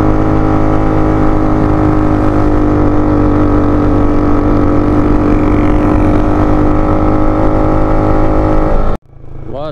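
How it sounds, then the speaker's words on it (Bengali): A motorcycle engine labours steadily uphill on a mountain road in Bandarban, a loud, close, sustained drone with no talking, cutting off abruptly near the end. "যে মোটরসাইকেল খুব কষ্ট পাচ্ছে উপরে উঠতে"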